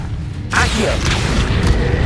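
Accio summoning spell in Hogwarts Legacy, beginning with a sudden whooshing rush after a brief quieter moment, then a sustained, close magical hum and rumble.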